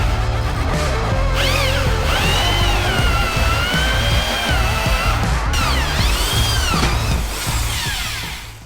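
Power drill boring holes through aluminum hot rod parts clamped in a vise, loud and close, steady whine with pitch rising and dipping as the bit loads and frees, tailing off at the end.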